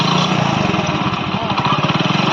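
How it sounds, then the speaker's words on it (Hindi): A Hero Honda CD Deluxe motorcycle engine running with a primary gear fault, giving a loud, close, rapid rhythmic mechanical chatter over the engine note, with no speech. "ये हमारी बाइक प्राइमर गियर की आवाज़ कर रही है।"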